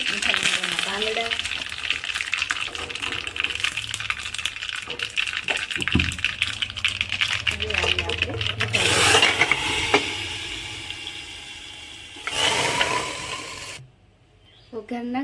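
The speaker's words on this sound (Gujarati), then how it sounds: "હવે આપણે વઘાર કરી લઈશું." Mustard seeds and leaves crackle and sizzle in hot oil for a dal dhokli tempering, with scraping and stirring sounds, bursts of hiss later on and a voice talking over parts.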